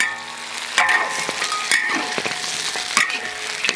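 Chopped chili and fried pig trotters stir-fried in hot oil in a wok for sour soup pork trotters, a steady loud sizzle broken by repeated scraping strokes of the spatula.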